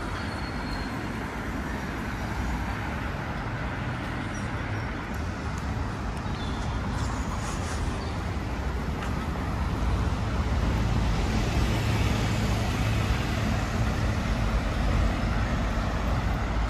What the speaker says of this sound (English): చూడండి బస్సెస్ వస్తున్నాయి